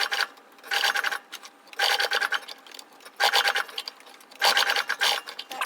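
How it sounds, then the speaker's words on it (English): Short bursts of a sewing machine stitching around a fabric tab on a belt, four separate runs of rapid mechanical whirring with pauses between them as the fabric is turned. "Then I'm just going to sew around the tab in a kind of rectangular square."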